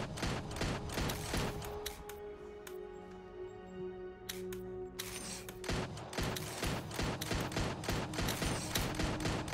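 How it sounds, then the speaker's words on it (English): Repeated shotgun blasts from a video game weapon in Voidtrain, sharp loud bursts in irregular clusters at the start and again after a short lull filled with a steady mechanical hum. "Sounds like a shotgun."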